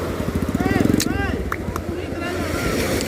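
A motorized tricycle rolls past on the sand at Matabungkay beach, its engine chugging in a quick rhythmic pulse that peaks near and then fades into surf-like background noise, while people chatter nearby.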